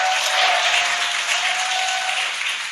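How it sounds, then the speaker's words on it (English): An excited crowd cheers and applauds continuously as a Dragon capsule descends under drogue parachutes toward splashdown, a dense, bright wash of sound with a faint tone running beneath. "You can hear the crowd here."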